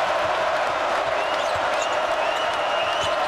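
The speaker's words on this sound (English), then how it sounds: "Crowd trying to get back into it." Basketball arena crowd at a Gonzaga vs Arizona game, a steady dense roar of cheering and applause filling the whole stretch, with commentary talk over it.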